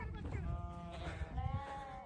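A flock of around a thousand to two thousand sheep bleats on a Nepali hillside pasture, with overlapping calls close by over a steady outdoor background and some voices.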